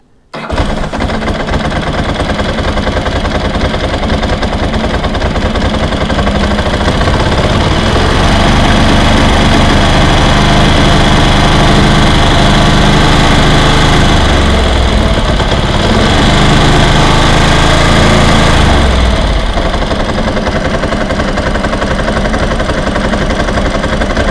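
A motorcycle engine idles steadily and loudly up close during a carburettor synchronisation check, a continuous even drone with a slight shift in pitch partway through and no voices.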